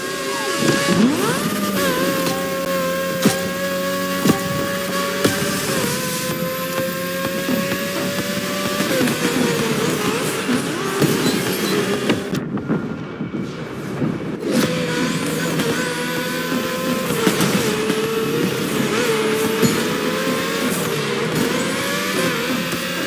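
Race cars in The Crew Motorfest scream past with high, shifting engine whines and revs, layered and continuous, dropping briefly to near quiet midway before roaring back.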